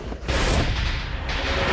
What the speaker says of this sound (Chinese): 竟然有人在圣地放鞭炮！